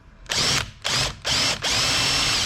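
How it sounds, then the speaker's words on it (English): A power drill boring out an old wooden dowel in a bar stool, three loud close bursts of whining motor and bit chatter with short pauses between, the last run held steady to the end. "I'm going to drill this out"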